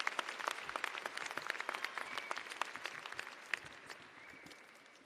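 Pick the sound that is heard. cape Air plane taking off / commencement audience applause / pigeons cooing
commencement audience applause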